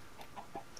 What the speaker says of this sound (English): I hear chicken.